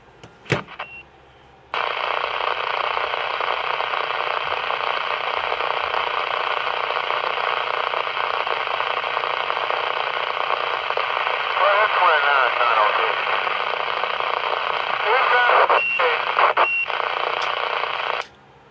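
A car radio plays loud and steady in an old '29, switching on with a click after a short pause and running continuously before cutting off near the end.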